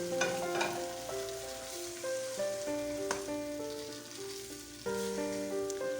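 Potatoes, eggplant and green chilies frying in a spiced masala, a continuous crackling sizzle under a background music melody.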